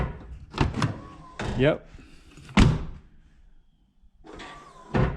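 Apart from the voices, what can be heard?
Jeep JK door opening, Rock Slide power step deploying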